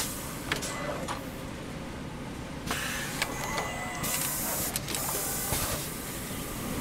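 A shoe lasting machine at a Paraboot workshop runs with continuous mechanical hiss and whirring, broken by sharp pneumatic bursts and clacks at irregular intervals, moderately close and with no talking.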